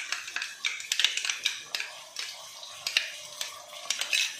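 Ginger garlic paste frying in a pan, stirred with a spoon, giving a steady close sizzle broken by frequent light scraping and clinking strokes against the metal.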